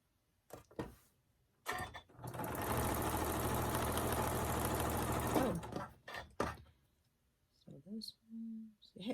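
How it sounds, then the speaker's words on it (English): A sewing machine chain-pieces patchwork tumbler blocks for a baby quilt, running in one steady, close whir for about three seconds, with clicks and short handling noises before and after. "I'm just going to sew these on."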